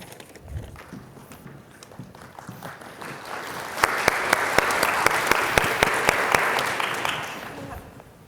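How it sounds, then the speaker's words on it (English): A conference plenary audience breaks into a round of applause, quiet shuffling at first, then clapping builds and grows dense and loud with a few sharp close claps standing out before it tapers. "Okay, I was going to say, Mark, you didn't have to work hard for that round of applause."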